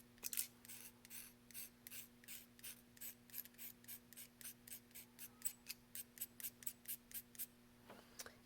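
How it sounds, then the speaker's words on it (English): A soft pastel stick in Coastal Cabana is scraped over a layer of paste in quick, even, rhythmic strokes, about two dozen dry rasps in a row, close but quiet, with no talking. "I'm just going to scrape it on top of the paste"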